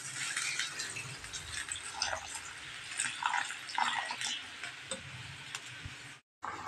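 Water poured into a pot of pork and chicken adobo with vinegar and soy sauce, a steady close splashing and trickling with faint ticking clinks, continuous for several seconds before stopping abruptly near the end.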